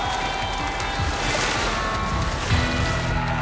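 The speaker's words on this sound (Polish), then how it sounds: "Uczestnicy poskramiają fale" Cartoon ocean surf rolls in during a surfing competition, a steady, loud, broad wash of breaking waves with wind running through it, and no clear speech.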